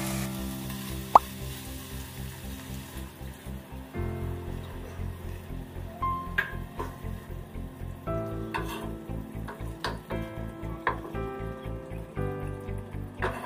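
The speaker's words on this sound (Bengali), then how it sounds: "এবার আমি পরিমাণ মতন জল দিয়ে নেব।" Water poured into chicken keema cooking in a pan sets off steady plopping, bubbling and sizzling, close and fairly loud, with a rhythmic pulsing pattern throughout.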